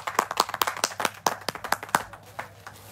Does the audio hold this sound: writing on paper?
no